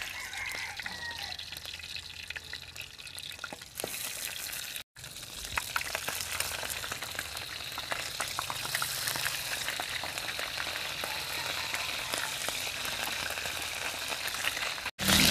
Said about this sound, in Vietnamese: Dầu nóng mình cho gà vào mình chiên.